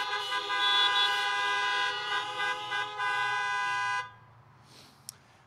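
Several car horns sound together in a sustained, overlapping honk for about four seconds at an outdoor live-streamed school gathering, then cut off, leaving quiet crowd ambience and a brief click.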